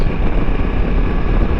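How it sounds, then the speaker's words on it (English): BMW 900 XR motorcycle engine and exhaust at riding speed, heard as a loud, steady low rumble heavily mixed with wind buffeting across the microphone. "I can hear more engine noise now. I can hear the exhaust more."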